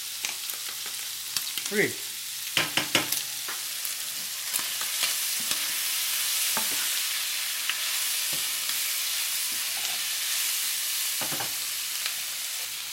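Squid stir-frying with hoisin sauce in a pan, a soft continuous sizzle with a few sharp scrapes and taps of a spatula early on, and a brief spoken count.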